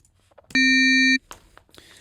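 A single FM synthesizer bell note from Ableton Operator rings out bright and sustained for about half a second, pure and tonal, then stops sharply amid faint background clicks.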